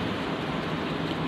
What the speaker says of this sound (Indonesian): Hujan ya. Gericik-gericik, gerimis gitu.